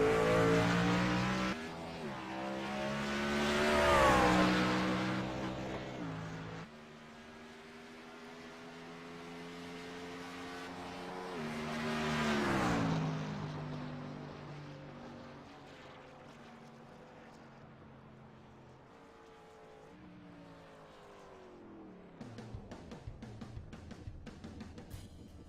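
Race cars lapping a racetrack, engines rising and falling as they pass, with two loud swells of revving and shifting tones, then a fading drone and some rattling closer noise at the end, no talking.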